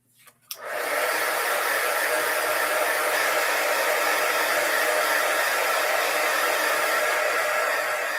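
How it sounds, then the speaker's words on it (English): A heat gun used to heat-set a craft project switches on after a brief quiet moment, then blows with a steady loud whooshing roar that holds to the end. "So we are going to heat set that just a touch."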